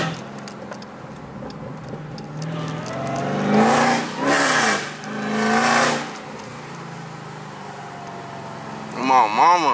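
A tuned Dodge Hellcat said to make 1,000 horsepower revs hard as it accelerates, with loud surging engine roars swelling in the middle under excited talk from people inside the car.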